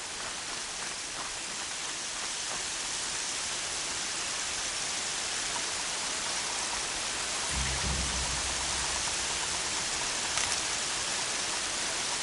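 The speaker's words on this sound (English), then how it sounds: "More rain. My boots will get damp." Steady rain falls in the video game Horizon Zero Dawn, a dense even hiss that continues throughout with no pauses, joined midway by a brief low rumble.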